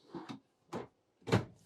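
Three drawers in a 2021 Forest River R-Pod 196 travel trailer kitchen slide and bump in turn, each a short wooden clunk with a soft rolling rasp, the last one loudest, close by with quiet gaps between.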